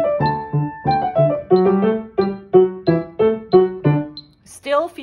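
Solo piano plays the Bach Musette in D, BWV Anh. 126, at a moderate tempo of 92, with a bouncing left-hand octave bass under a lively right-hand melody, steady and clear with no talking.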